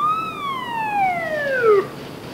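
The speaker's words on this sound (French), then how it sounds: "Bravo, 101, actionnez votre sirène." A single descending police car siren wail sweeps down in pitch, fairly close and clear over a quiet background.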